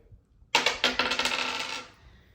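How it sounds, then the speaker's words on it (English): Dice rolled onto a hard surface before a game of chance picking a basketball destination, giving a sharp clatter followed by a quick series of diminishing rattling bounces, close and clear with no talk. "I'm going to roll this dice"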